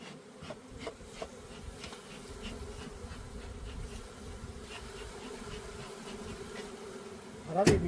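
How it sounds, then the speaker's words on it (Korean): Honeybees buzz steadily around an open hive in spring as frames are inspected on a windy day, a dense continuous drone with scattered louder passes of individual bees close by and a brief louder rustle at the end. "바람이 부니까 벌이 사납습니다."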